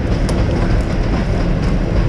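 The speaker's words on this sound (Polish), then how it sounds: "oj pociąg jedzie od razu" A train rolls past an old railway embankment in a forest, a steady broadband rumble with faint clatter filling the whole stretch, loud and close with no pauses.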